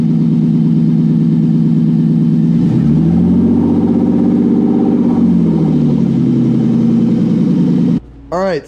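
BMW E30 fitted with an M50 engine runs steadily with a loud, sustained drone that rises and falls through a rev, then cuts off abruptly near the end.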